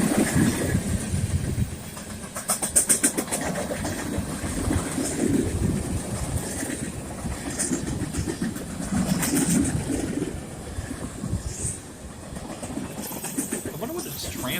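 A freight train rolls past close by outdoors, a steady loud rumble with rhythmic clickety-clack of wheels over rail joints and occasional squeals, with a bird faintly heard.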